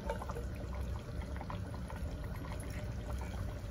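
Apple cider vinegar poured into a shrimp boil pot, a steady close liquid pour running continuously for several seconds with a faint bubbling wash beneath.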